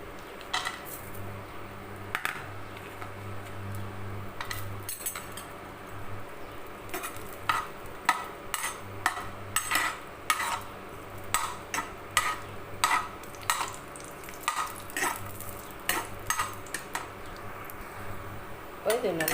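Broken cashew nuts fry in ghee in a pan while a spoon scrapes and clinks against the metal in repeated strokes over a soft sizzle, with occasional quiet talk.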